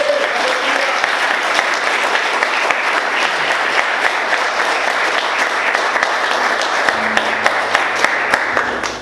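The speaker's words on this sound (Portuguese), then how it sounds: "Vamos aplaudir Jesus bem forte" Steady, loud applause from a church congregation fills the space for the whole stretch, dense and continuous, with a few faint voices underneath.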